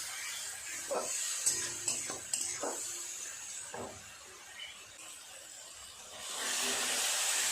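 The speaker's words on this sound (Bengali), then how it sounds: "তেল ছাড়া পর্যন্ত মশলাটাকে এইভাবে একটু কষিয়ে নিতে হবে।" Spice paste sautéing in oil, with a few stirring scrapes and soft sizzling that swells into a louder steady hiss near the end, fairly quiet overall.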